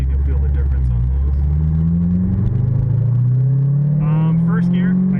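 A 2010 Corvette Grand Sport twin turbo engine pulls on low boost, a loud, close, deep rumble that steadily climbs in pitch, heard from inside the car with a voice speaking over it near the end.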